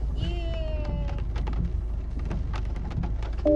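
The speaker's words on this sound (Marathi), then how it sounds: "पाऊस चालू आहे" Steady rain falls in a flooded, congested street in Nashik during a 24-hour downpour, a continuous hiss with scattered drops and patters, while voices talk over it.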